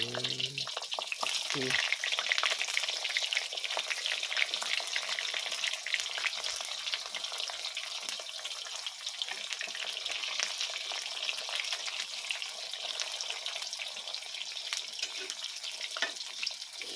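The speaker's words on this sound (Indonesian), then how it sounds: "Lanjut pemirsa, kita goreng terong." Eggplant frying in oil in a pan, a loud steady sizzle and crackle that runs continuously, close up and mostly alone, with a little clatter near the start.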